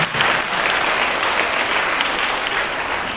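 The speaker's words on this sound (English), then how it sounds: "A big round of applause for all those students." Steady, loud applause from an audience at a school investiture ceremony, dense clapping that holds for the full few seconds.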